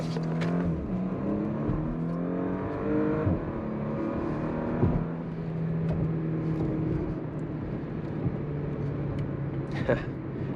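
A 2021 Porsche Macan S engine pulls hard under acceleration. The close, steady drone climbs and eases in repeated rising sweeps as the revs build and drop.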